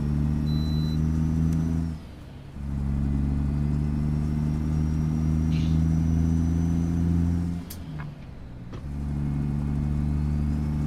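Truck engine in American Truck Simulator droning steadily with a deep hum while driving, dipping twice briefly as gears change, loud and continuous.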